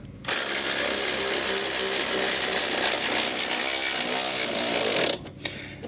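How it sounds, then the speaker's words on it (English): A Milwaukee electric ratchet runs continuously for about five seconds, a loud, close, steady whirring rattle, lifting a trailer jack before it stops abruptly. "The electric ratchet, and you are going to lift all these jacks."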